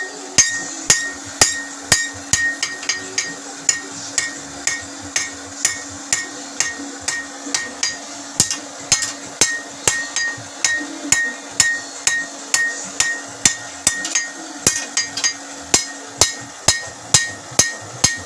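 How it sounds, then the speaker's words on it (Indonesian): Steady hammer blows ring out on hot spring steel being forged into blades at a village smithy in Kampung Cibatu, Sukabumi, West Java, a regular metallic clanging rhythm of sharp strikes, close and loud, with no talk. "Disinilah proses menempahnya."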